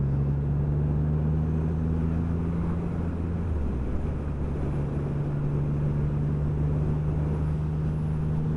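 A heavy Triumph Rocket 3 R motorcycle rumbles steadily at close range, its low engine drone holding a constant tone that drops in pitch once, as if shifting gear, under continuous wind noise.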